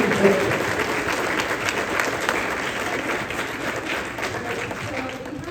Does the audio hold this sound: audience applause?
yes